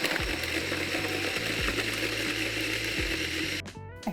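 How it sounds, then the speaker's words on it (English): Kitchen blender whirring steadily as it purees chilies, capsicum and garlic into a smooth paste, a loud close motor drone that cuts off abruptly near the end. "Now scoop the chilies and the capsicum and the garlic into a blender, and you want to blend this to a really smooth paste."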